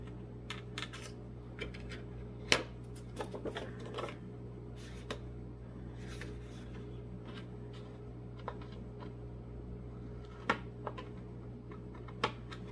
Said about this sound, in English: Now I'm just cutting this out.